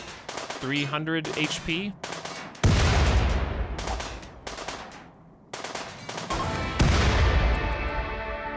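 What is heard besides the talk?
grenade explosion and gunfire in the video game RimWorld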